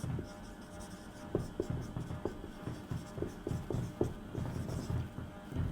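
Chalk or marker taps and scratches across a board during a maths lesson on sets, a steady run of short strokes at close range with no speech.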